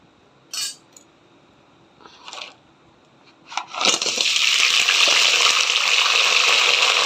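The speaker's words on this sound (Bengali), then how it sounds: "কড়াইতে তেল গরম হয়ে গেছে এখন আমি কাঁকড়াগুলো ভাজি করে নেব" Crabs hit hot oil in a wok, giving a few short clinks and splashes before a loud, steady sizzle of frying takes over and continues unbroken to the end.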